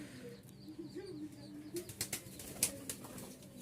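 A restless male pigeon shown for sale at a Mirpur-1, Dhaka pigeon market, with soft cooing and bursts of wing flapping and shuffling against a busy background, fairly quiet and close.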